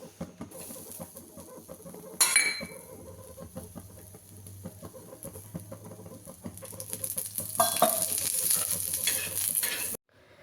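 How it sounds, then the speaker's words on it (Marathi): Onion roasting and being stirred in a pan while preparing a fish curry, with scraping, rustling stir strokes and soft sizzling that grows busier and louder toward the end, then stops abruptly. "त्यानंतर 1 वाटी कांदा आपण भाजायला घेऊया"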